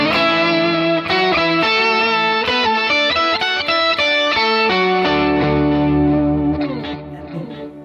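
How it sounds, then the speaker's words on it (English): Overdriven electric guitar on a Fractal FM3, with a pitch block still active, plays a busy sequence of picked notes and then settles into a sustained ringing chord that fades near the end, loud and close with no talking. "And I can go back and hit my overdrive scene."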